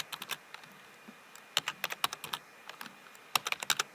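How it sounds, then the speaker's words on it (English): Typing on a computer keyboard while entering data points into an online regression tool: quick clusters of light key clicks in irregular bursts, close and fairly quiet, with short pauses between runs. "And I'm just typing away."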